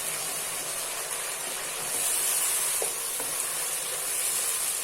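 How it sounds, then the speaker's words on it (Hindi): Tomato paste sizzles and fries steadily in a pan with a keema stuffing mixture for stuffed karela, a close, continuous hiss that swells slightly louder midway, with faint stirring clicks. "ये डाल देंगे और इसको अच्छे से हमने फ्राई कर लेना है तकरीबन 1 से 2 मिनट के लिए"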